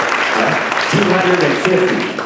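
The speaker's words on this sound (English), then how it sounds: "Give them a round of applause." Audience applause at a Coaches for Cancer charity auction, a steady round of clapping from the crowd with a voice talking over it.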